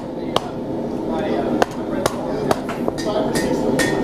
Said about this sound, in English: Just gonna give it a couple blows here to straighten it out a little bit.